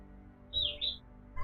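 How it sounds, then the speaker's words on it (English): Buddy, a pet parrot, gives two short high chirps close by in a quiet room, then falls silent. "that's Buddy, which is Tom's parrot"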